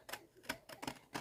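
Pinking shears cut paper for a Halloween craft bag and box: four crisp, separate snips in an uneven rhythm, close and fairly quiet.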